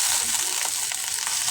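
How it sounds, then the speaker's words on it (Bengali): Chopped onions and cleaned prawns fry in a little oil in a pan, giving a loud, continuous, close crackling sizzle. "একটা প্যান বসিয়ে তাতে অল্প তেল দিয়ে পেঁয়াজ কুচিগুলি ভেজে নিচ্ছি আর বেছে রাখা চিংড়িগুলোও দিয়ে দিলাম"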